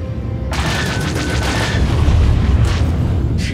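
Missile explosion in the space dogfighting game Star Wars: The Old Republic Galactic Starfighter, a loud deep boom hitting hard and rumbling on in a dense roar through the whole stretch.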